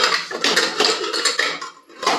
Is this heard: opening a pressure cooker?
yes